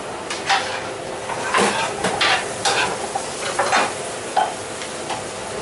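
Butter sizzles in a seasoned frying pan as porcini mushrooms are cooked, a steady crackle broken by scraping and clinking spoon or pan sounds, fairly close.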